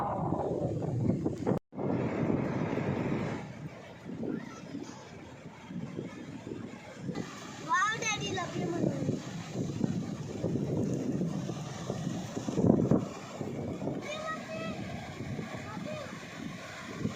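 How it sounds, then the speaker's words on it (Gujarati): Sea waves roll in on Bordi beach in Maharashtra, a steady broadband wash with wind buffeting the microphone throughout, while people talk over it at moderate level. "જે આ અવાજ આવે ને નેચરલ દરિયાનો સાઉન્ડ, એ સાંભળવાની મજા જ કંઈક અલગ આવે"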